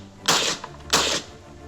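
An M1 Carbine rifle fires two sharp, loud shots about two-thirds of a second apart, each followed by a short ringing decay, with no talking.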